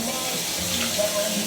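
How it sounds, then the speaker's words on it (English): Kitchen faucet running during Italian sausage roll preparation, a steady loud rushing stream of water close by, with a voice briefly audible over it. "Turn the water on real quick."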